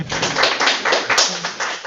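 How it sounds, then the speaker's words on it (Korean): Audience clapping in a university lecture room, a short burst of many hands together, steady and fairly close, with no voices over it. "박수라도 쳐주세요."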